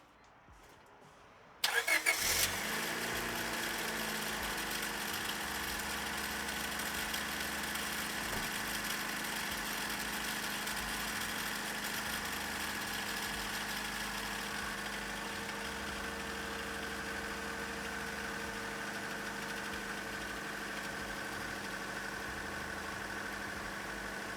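A Honda Civic EK hatchback engine cranks briefly and catches almost instantly, then settles into a steady, even idle that carries on loudly and unbroken for over twenty seconds with no talking.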